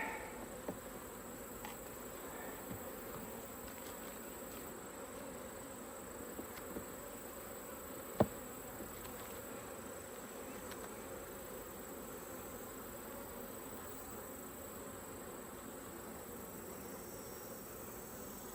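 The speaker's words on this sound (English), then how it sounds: "Got some newly emerged bees on here." Honeybees buzz steadily around a hive frame with newly emerged bees, capped brood, nectar and larvae, a close, continuous droning hum that holds at an even level throughout.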